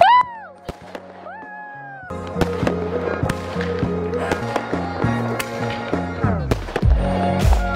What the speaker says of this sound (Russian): сейчас мы внепланово вышли запускать салют в честь моего дня рождения